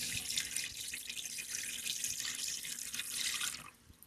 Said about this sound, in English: So you just want to take your brine, ladies and gentlemen, and just pour it.